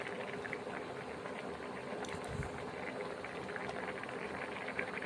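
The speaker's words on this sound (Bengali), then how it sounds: "মুসুর ডাল পনির নেড়ে চেড়ে নিতে হবে" Masoor dal with paneer bubbling in a pot as it is stirred, a steady, close, even simmer throughout with soft liquid churning and no voices.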